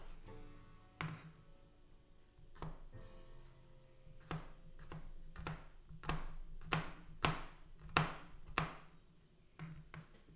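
A knife chops garlic cloves on a cutting board in a home kitchen, giving a string of sharp, close thunks in an uneven rhythm that grows denser and louder partway through, over a steady low background hum.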